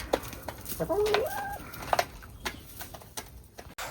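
Backyard chickens cluck and murmur close by in short scattered bursts, with a couple of sharper squawks and light rustling between the calls.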